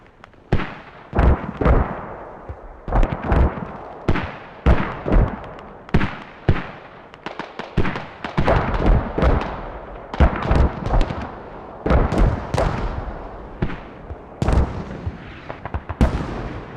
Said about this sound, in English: Mortars are though making it difficult for Americans to push in.